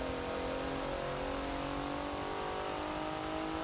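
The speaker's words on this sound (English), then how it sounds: "Porsche coming onto the front straight." A Porsche race car in the Forza racing game accelerating hard onto the front straight at Hockenheimring, its engine holding a loud, continuous high-revving drone throughout with no talking.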